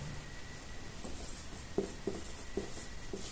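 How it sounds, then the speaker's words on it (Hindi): Pen or pencil writing on paper while a Hindi-language class 10 maths exercise is worked out; faint, close scratching strokes with a few soft taps, alone with no talking over it. "तो हम लिखते हैं"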